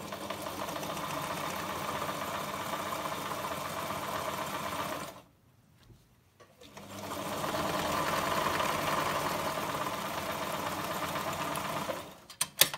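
A sewing machine stitches a French seam in a steady close mechanical hum, stops briefly midway, then runs again at a similar pace before halting with a couple of small clicks.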